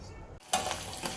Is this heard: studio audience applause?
no